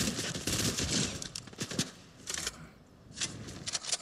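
Gunfire in the video game Fortnite comes as dense bursts of rapid shots in several clusters, with brief gaps between volleys, moderately loud and close.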